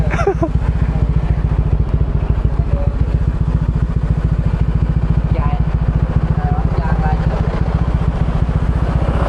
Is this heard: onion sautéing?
no